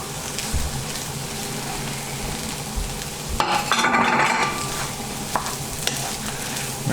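Corned beef hash being stirred in a frying pan on a stove ring, a steady sizzle with scraping and clinking of the utensil, one brief louder burst of stirring midway, no talk.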